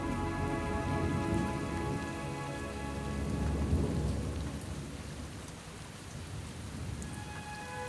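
Steady monsoon rain pours down in northern Australian crocodile country, a dense hiss that never lets up, while low rolling thunder rumbles beneath it and fades toward the end.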